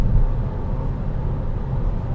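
Skoda Octavia A5 with 318,000 km cruising in fifth gear at around 120–130 km/h under half throttle, a steady low engine drone and road rumble heard from inside the cabin, continuous and even throughout.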